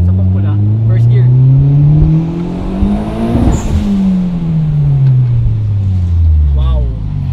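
An all-wheel-drive Mitsubishi Evo X accelerates hard in first gear, its loud engine note climbing steeply in pitch. The roar peaks sharply midway, then falls and fades as it continues pulling close by.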